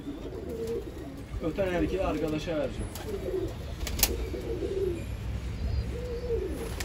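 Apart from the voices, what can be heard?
male roller pigeon cooing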